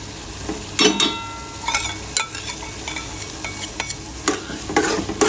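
Daal mash with a few spoonfuls of yogurt sizzles and fries in a pan while a spoon scrapes and stirs in irregular clattering strokes, close and moderately loud, with no voices.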